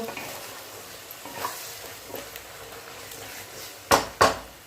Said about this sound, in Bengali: দু মিনিট নাড়াচাড়া করলে রেডি লাউ পোস্ত